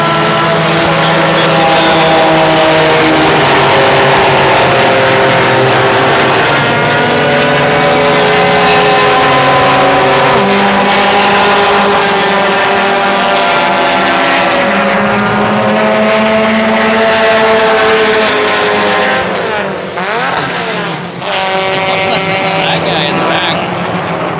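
Vintage race cars, including Mustangs, Camaros, Porsches and Mazdas, roar past on the circuit at Canadian Tire Motorsport Park, loud engine notes rising and falling continuously as several cars pass close by in succession.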